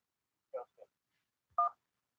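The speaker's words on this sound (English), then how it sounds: "Coming up on the show, we'll have a phone call with Justin" Two short bursts of telephone dialing tones placed for a radio show call-in, a quick double beep followed after a pause by one brighter, longer tone, clean and isolated against silence.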